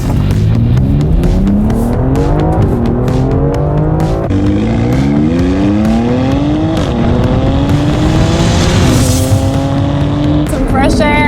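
A 2020 BMW X3 M Competition heard loud from inside the cabin: the engine revs and drops through the gears, and the exhaust crackles and pops as it coasts, with a voice talking over it.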